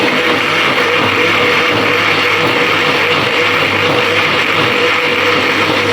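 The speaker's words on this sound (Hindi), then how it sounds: "और अभी मैं इनको ये वाला जो मसाला है ना, ये सारा ग्राइंड कर दूँगी" An electric grinder whirs steadily as it grinds curry masala, a loud, continuous motor drone with a gritty churning texture and no break.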